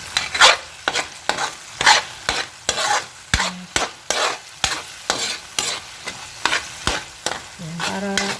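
A spoon stirs food in a pan with regular, evenly spaced scraping strokes about twice a second, each one close and distinct over a light sizzle, with no voices.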